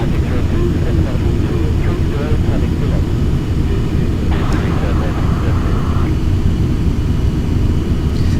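Small single-engine aircraft droning steadily in Flight Simulator X, flying over mountainous terrain with some turbulence, a constant loud engine hum with a brief higher tone partway through, and someone talking over it.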